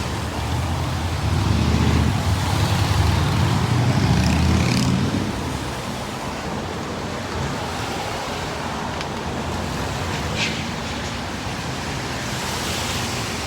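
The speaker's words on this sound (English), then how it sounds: "A lot of traffic through here." Steady road traffic rolls across Brisbane's Story Bridge, a broad continuous roar of passing vehicles heard from the footway, louder for the first few seconds and then a constant wash with faint higher rattles.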